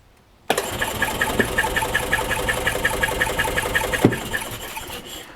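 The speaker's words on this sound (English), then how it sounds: "let's put a key in it, crank it over" The gas engine of a 2005 Club Car Precedent golf cart cranks over loud and close for about five seconds, a steady rapid chugging from the starter that begins abruptly and runs without a catch.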